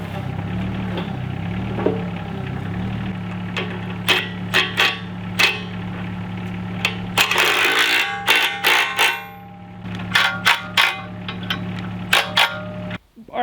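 Cheap Alibaba rock crusher bucket fitted to an excavator and clearing an old rock pile, steady hydraulic hum under repeated sharp knocks and clattering crushing bursts, close and loud, with no speech.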